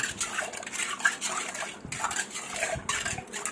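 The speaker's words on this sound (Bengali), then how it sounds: "আমরা এটা নেড়ে আমাদের যে চিনি এবং এসএমসিগুলো ছিল এসএমসির পাউডারটা এটা গুলিয়ে নিব" A spoon clinks and scrapes around a glass or jug while sugar and milk powder are stirred into a chilled sherbet drink, with a steady rapid rhythm, close and fairly quiet, with no voices.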